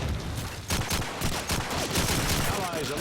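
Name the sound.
gunfire in Call of Duty 2 video game, Dawnville map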